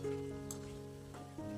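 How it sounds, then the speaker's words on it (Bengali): Chicken pakoras deep-frying in hot oil over a high gas flame, a soft steady sizzle with faint crackle, heard close and alone. "এরকম করে লাল করে ভেজে তুলে নিচ্ছি পকোড়াগুলোকে।"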